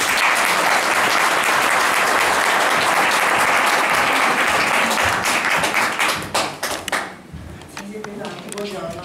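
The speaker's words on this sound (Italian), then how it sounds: "le facciamo un applauso." Audience applause greeting a woman called to the stage at an Italian presentation event, a loud, dense wash of clapping that breaks into scattered individual claps and fades out near the end.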